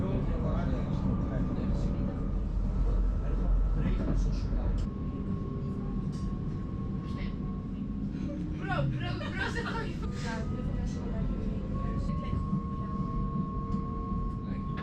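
An NS Dutch passenger train runs steadily between Den Helder and Haarlem, a constant loud rumble of wheels and carriage noise with squeals and rattles midway, heard from inside among faint passenger chatter.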